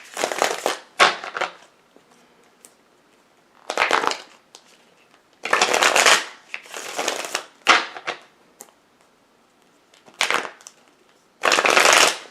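Tarot cards are shuffled in repeated short bursts of crisp riffling and rubbing, close and loud, separated by quiet pauses, with no speech.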